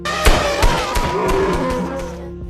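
Several sharp gunshot cracks ring out over a busy, tonal background, the first two loudest and close together, followed by fainter bangs.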